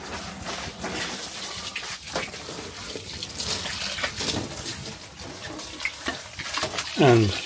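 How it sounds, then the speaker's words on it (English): Water splashes and trickles steadily onto cucumber plants and their leaves, a continuous close hiss with scattered patters, and a voice murmurs briefly near the end. "So we'll put some water on them."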